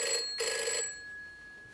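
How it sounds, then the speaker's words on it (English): A telephone bell rings in a short, loud burst in an indoor sitcom scene, with the ringing cutting off partway through and a quiet room left behind. "I can't stand that phone ringing."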